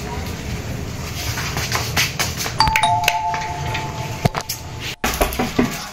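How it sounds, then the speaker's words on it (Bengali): A doorbell chimes clearly, ringing out over background room noise and some voices. "কলিং বেল বাজিয়ে আবার ঠক ঠক করছে"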